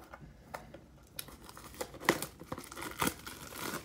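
The plastic wrapper of a basketball trading card box is cut and pulled open, giving close crinkling and crackling with a few sharp snaps and tearing rustles.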